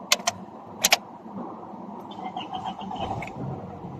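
Keys jingle in a few quick bursts, then a 2008 Toyota Camry's starter cranks briefly and the engine catches into a quiet, steady idle close by.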